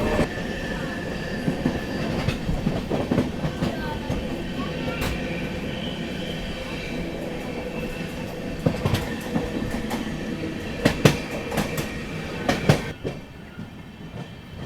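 The 13698 Amrit Bharat Express runs from Delhi to Gaya, heard from inside as a loud continuous rolling rumble with rhythmic wheel clatter over rail joints and brief metallic squeals.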